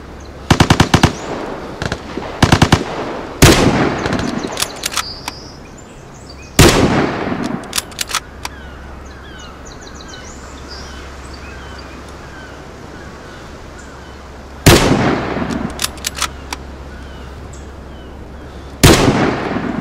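Loud bursts of gunfire from the Vigor video game crack out in separate volleys, several rapid strings of shots spread across the stretch with a low steady hum underneath and no talking.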